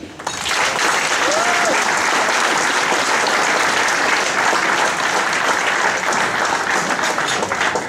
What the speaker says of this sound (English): Please give a round of applause for Marcus Dunley.